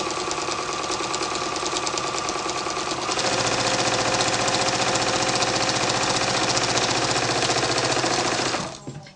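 Sewing machine stitching a seam with a back tack, a loud close rapid mechanical chatter running nearly nine seconds, shifting pace partway through before stopping abruptly.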